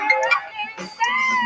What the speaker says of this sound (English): What if SpongeBob calls me on the phone